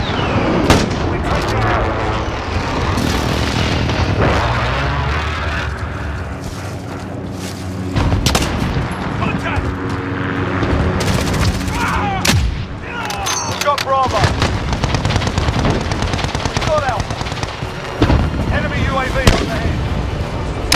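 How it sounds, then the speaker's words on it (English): Precision airstrike explosions in the Modern Warfare 2019 shooter land as repeated heavy booms and blasts, mixed with rattling gunfire and mechanical clatter, loud and dense across the whole stretch, with voices shouting at times. "Enemy precision airstrike! Take cover!"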